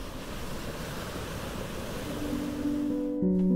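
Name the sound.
beach waves and surf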